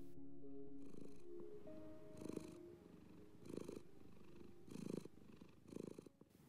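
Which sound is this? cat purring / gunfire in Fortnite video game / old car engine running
cat purring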